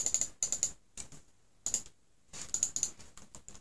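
Rapid bursts of sharp mouse clicks during a CS:GO session, repeated in quick clusters with short pauses between, close and fairly loud with no voice over them.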